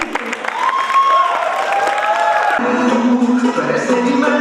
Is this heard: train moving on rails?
no